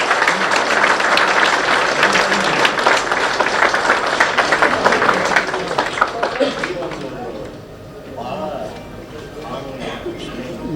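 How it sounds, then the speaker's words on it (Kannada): Applause from an event audience for a stage guest, dense clapping at first that thins out and fades after a few seconds, with voices and chatter in the background. "ಬರಲಿ ಒಂದು ಚಪ್ಪಾಳೆ."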